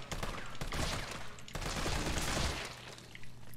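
Gunfire in Resident Evil 3 on Hardcore difficulty, a dense run of game shots and impacts filling the stretch at steady loudness, with faint talk beneath.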